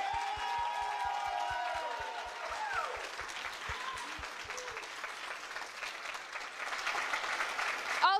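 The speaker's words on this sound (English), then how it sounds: "let's have a huge round of applause for Le Wagon team" Applause from a demo day crowd at a Montreal coding bootcamp, steady dense clapping that fills the room throughout, with some cheering and raised voices mixed in and a few low thumps early on.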